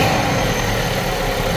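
A 2014 VW Golf with a DSG gearbox that has a transmission noise, its engine held at a steady, loud, close drone with a low rumble and broad mechanical whir, and no talking.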